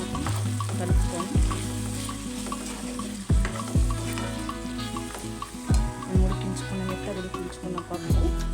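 Chili powder being stirred into vegetable sambar as it fries in a pot, with a steady sizzle broken by repeated scraping strokes of a spoon against the pan.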